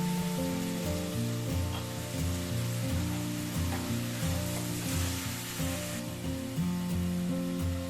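Chapathi thokku sautéing in a pan after salt is added, giving a steady, close sizzle with stirring throughout and no talking.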